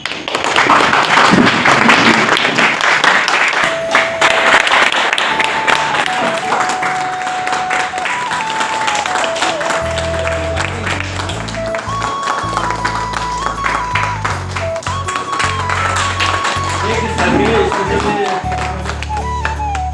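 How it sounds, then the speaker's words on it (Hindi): An audience stands and claps at a farewell gathering for an LIC branch manager, with steady sustained applause throughout and music playing beneath it. "सबसे पहले आप उनके लिए आए खड़े होकर के ताली बजाइए"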